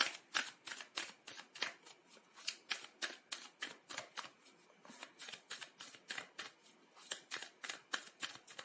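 Tarot cards being shuffled close by make about thirty quick, regular riffling bursts that run on steadily with no talk.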